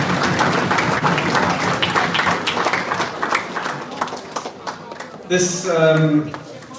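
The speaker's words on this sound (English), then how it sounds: "let's have a big round of applause for the team, the committee that put this on for us this evening" A banquet crowd at a hockey association year-end evening gives the organizing committee a lively round of applause, close and steady before thinning out, with a voice speaking near the end.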